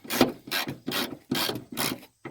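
A ratchet with a 13 mm socket working the bolts on a car hood hinge gives five loud, close bursts of rapid clicking, each separated by a short pause.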